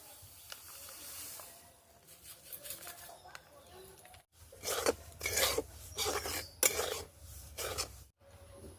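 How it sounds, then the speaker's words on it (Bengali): Semolina dry-roasted over low heat in a pan for rasgulla, heard as a series of hissing, gritty scraping strokes close by, with a short pause before louder, more rhythmic stirring. "এবারে সুজিটা আমি হালকা আঁচে গরম করে"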